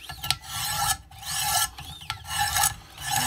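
A knife blade is sharpened on a Wicked Edge WE130 guided sharpener, with close rasping strokes of the stone along the edge in a steady back-and-forth rhythm, about six passes separated by brief pauses, with no talk.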